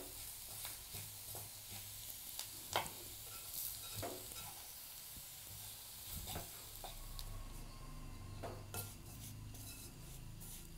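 A jackfruit seed stir-fry stirred in a pan, with soft, quiet frying hiss broken by intermittent spoon scrapes and clinks against the metal.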